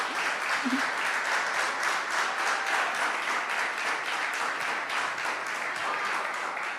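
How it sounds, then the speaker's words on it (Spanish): A church congregation claps in praise during a sermon, with sustained, even applause from many hands at a moderate distance and no speech over it. "Aleluya, dale un aplauso al Señor."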